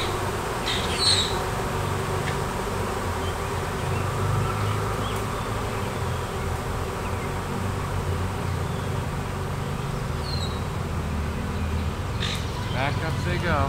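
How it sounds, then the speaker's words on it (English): A honey bee swarm fills the air with a dense, steady buzzing from many bees close by, holding at one level throughout, with a voice talking briefly over it. "There's bees everywhere."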